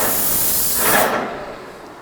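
A paint sprayer hisses steadily while laying the first coat on an accent wall, a loud close spray that swells briefly then cuts off into quiet.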